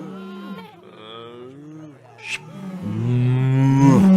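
An animated cow moos in the video game Hidden Folks, a drawn-out low call that rises toward the end, loud and alone.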